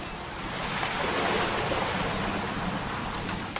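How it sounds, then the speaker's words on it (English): Steady rain in the video game What Remains of Edith Finch, a broad hissing wash that swells slightly in the middle and holds at moderate loudness, with no talking. "It's going to rain the whole weekend, isn't it?"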